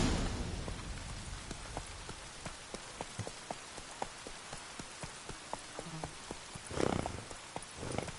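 Roach the horse's hooves in The Witcher 3, a steady run of faint, evenly spaced clip-clops over a soft rain-like hiss, with one brief louder burst near the end.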